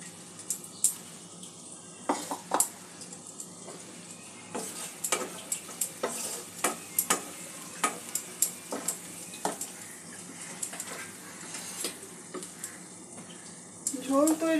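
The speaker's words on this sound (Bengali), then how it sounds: "আলুর সঙ্গে মশলাটা একটু মিশিয়ে নেব।" Potatoes scraped and stirred into a cooked spice paste in a pan for a fish egg curry, with a steady low sizzle and a run of utensil scrapes and clinks against the pan, ending in a louder burst of frying.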